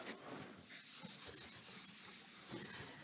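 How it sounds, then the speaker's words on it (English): An eraser rubs out pencil writing on paper in a continuous close scrubbing sound with quick back-and-forth strokes, soft but steady, with no talking. "I might rub this out."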